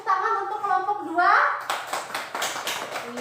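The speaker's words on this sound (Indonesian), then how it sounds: "Kita dan Juju boleh tepuk tangan untuk kelompok 2" Classroom group of children clapping for group 2 after a presentation, a burst of several seconds of scattered, fairly close hand claps following a short spoken phrase.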